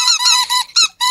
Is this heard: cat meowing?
no